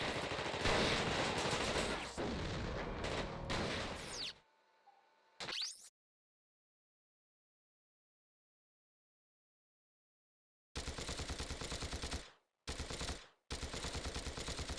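A turret in The Thing Remastered fires in quick mechanical bursts, loud and close, breaking off into silence and then returning in several clipped volleys.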